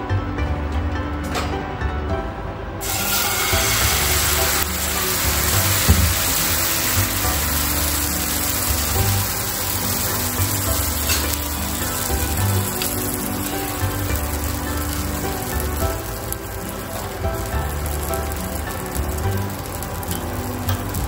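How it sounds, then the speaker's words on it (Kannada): Dosa batter on a hot tawa greased with ghee gives a continuous, even sizzle. It is faint and steady and carries on for a long stretch with no talking. "ಚೂರು ತುಪ್ಪನ ಹಾಗೆ ತವಾಗೆ ಅಪ್ಲೈ ಮಾಡಿಬಿಟ್ಟು ದೋಸೆ ಹಾಕೋಣ ಬನ್ನಿ"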